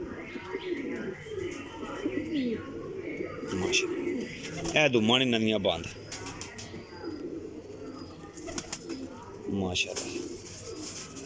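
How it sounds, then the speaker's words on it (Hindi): Salara desi pigeons coo in soft, repeated low calls, with a brief louder burst of cooing midway, while someone talks over them throughout. "सलारा देसी कबूतर है माशाल्लाह जी"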